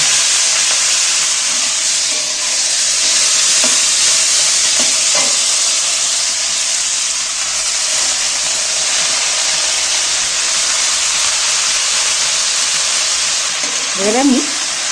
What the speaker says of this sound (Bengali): এইবার আমি কাটা শাকগুলো তেলের মধ্যে তুলে দিচ্ছি